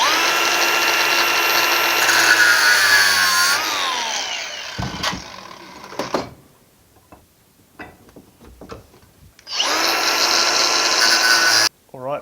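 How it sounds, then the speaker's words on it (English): Angle grinder cutting off excess metal, loud sustained whine with shifting pitch as it bites, stopping midway to quiet handling clatter, then starting again near the end. "I'm just going to use the angle grinder to cut off the big bits"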